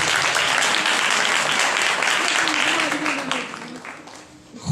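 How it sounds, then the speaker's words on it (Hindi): A congregation at a church service breaks into loud, sustained applause that fills most of the clip and thins out toward the end. "जरा जोर से ताली बजा दे"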